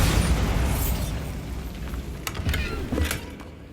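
A Bombarda blasting spell in Hogwarts Legacy: a heavy, rumbling explosion fills the start, followed by scattered cracks and debris pops as it settles. It is loud and close, with no talk.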